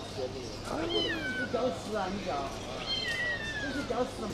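A kitten gives several high, thin meows in quick succession, close by, with people chatting in the background at a crowded open pet market in China.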